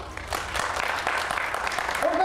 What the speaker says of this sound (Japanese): はい、違うよっていう方は拍手。